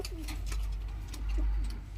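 Pigeons cooing in a loft, several soft low coos repeating near the listener over a faint background hum, with no talking.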